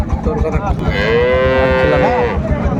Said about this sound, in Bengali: বেশ সুন্দর গাভী বাছুরটি